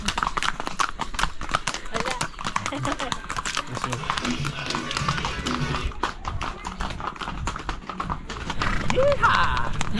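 Steady clip-clop of horse hooves striking a hard main road at a walking pace, close by, with people talking over it throughout, in the coffee mountains near Medellin, Colombia.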